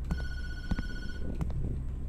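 A telephone rings in the horror video game Tattletail, a few bright electronic rings over a low, steady background hum.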